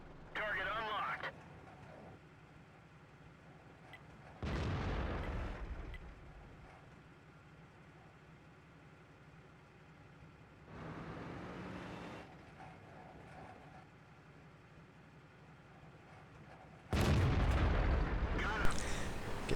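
Heavy tank gun blasts in World of Tanks on the Prokhorovka map, several loud booming shots spaced across the stretch with low rumbling engine noise and occasional game voice lines between them.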